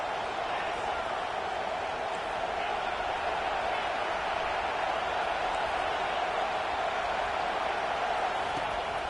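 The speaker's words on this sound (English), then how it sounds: "It is getting loud as this crowd tries to help its defense." A packed college football stadium crowd roars steadily and loudly, a dense unbroken wall of noise for the whole stretch while the opposing offense has the ball.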